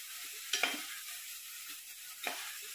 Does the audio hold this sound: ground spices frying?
yes